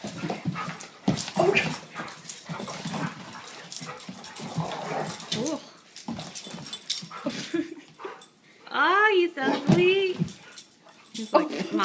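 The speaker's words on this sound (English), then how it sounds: "get this other dog out of here" Dogs whimper and yip repeatedly close by in a backyard near a fence, with high whining cries rising and falling, heard amid people talking and calling out.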